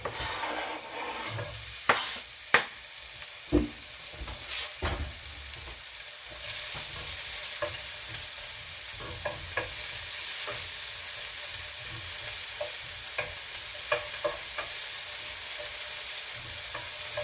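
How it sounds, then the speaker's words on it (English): Meat and cilantro fry in a pan with a loud, continuous sizzle. Sharp clacks and taps from a utensil come early, then lighter scattered stirring ticks continue over the sizzle, and no one speaks. "Now I'm going to add cilantro and meat in there to cook."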